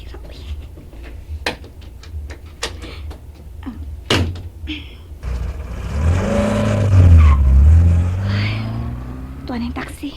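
A taxi pulls up after a stretch of quieter street ambience with sharp knocks, its engine rumble and tire noise rising loudly to a peak and then easing off as it draws near; people talk around it.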